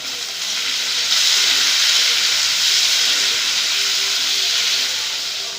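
Chopped onions sizzle in hot oil in a wok, a loud, continuous bright hiss that swells slightly and holds steady.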